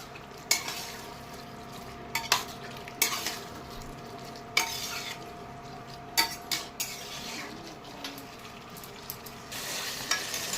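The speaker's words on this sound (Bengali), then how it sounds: "চানাগুলো দেওয়ার পর ভালো মতো নাড়তে হবে যাতে চানার সাথে মশলাগুলো ভালো করে মিক্স হয়ে যায়।" Chickpeas and spices being stirred in a frying pan, a soft ongoing sizzle punctuated by sharp intermittent scrapes and knocks of a spatula against the pan, close-up with no speech.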